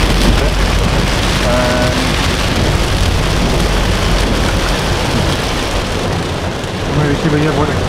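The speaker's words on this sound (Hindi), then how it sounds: "हल्की फुल्की बारिश शुरू हो चुकी है यहाँ पे" Light rain falling on a Toyota Corolla Altis during a drive toward hilly country, a steady dense hiss of drops on the car filling the whole stretch, loud and close with road noise underneath and a few faint tones.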